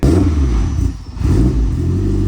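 A car with a full exhaust revs loudly nearby with a deep, rumbling exhaust note that dips briefly and then surges again.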